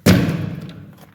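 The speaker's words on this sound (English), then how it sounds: "shut the door, my peeps" A door on an upstairs house under construction slams shut with one sharp, loud thud that rings out briefly and fades.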